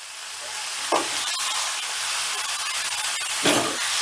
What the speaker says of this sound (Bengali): এবার লাউটাকেও ফোড়নের সঙ্গে একটু নাড়াচাড়া করে নেবো